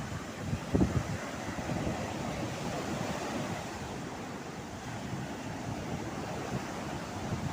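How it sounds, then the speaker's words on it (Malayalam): Sea waves wash up on a beach during a family day out, a steady broadband roar of surf with wind blowing across the microphone, continuous and fairly loud without a distinct single crash. "കുറച്ച് വലിയ തിരമാല വരുന്നു."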